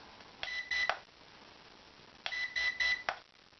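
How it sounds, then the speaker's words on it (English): A toy FPV quadcopter remote controller, the GTENG T905F, sounds two quick clusters of short electronic beeps about two seconds apart, faint and thin against steady background hiss. "So 3 beeps high speed, 2 beeps medium rates, 1 beep low speed."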